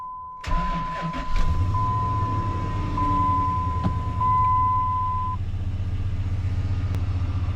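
A RAM 1500 pickup cranks briefly and its engine catches, then settles into a steady, close idle rumble. A continuous warning chime beeps through the first few seconds, with no talk.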